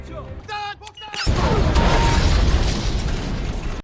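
A skateboard rigged with C4 detonates in a film scene, preceded by brief tonal sounds and a sharp sweep, then a loud broadband blast with a long rumbling roar that holds for several seconds before cutting off.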